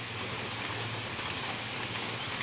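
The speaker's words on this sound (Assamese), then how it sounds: "ৰাতিপুৱা পুৰা বৰষুণ দি আছে" Heavy rain falling steadily in the morning, a dense continuous hiss and patter with no breaks, fairly faint and uniform throughout.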